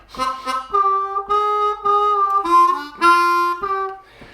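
A harmonica plays a bluesy lick, with sustained reedy notes and big draw bends, several bending downward in pitch, clear and solo with no other instruments.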